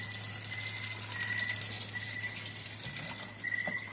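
Weak trickle of tap water running steadily into a sink at home, a soft continuous wash with faint rattles and a low background hum, no talking.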